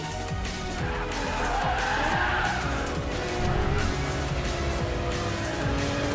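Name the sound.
Lamborghini Murcielago race replay in Racing Master video game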